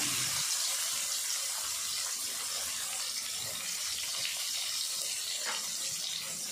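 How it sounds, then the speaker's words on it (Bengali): Chopped onions fry in hot oil with cumin and five-spice seeds for a hilsa and taro curry, a steady close sizzling hiss that continues without a break. "পেঁয়াজটা লাল করে ভেজে নেব।"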